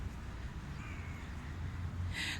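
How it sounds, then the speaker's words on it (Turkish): Crows caw in an open outdoor area, a couple of faint, distant calls over steady background noise, followed by a louder, closer caw at the end. "Gene kargaların yoğun olduğu yere geldim."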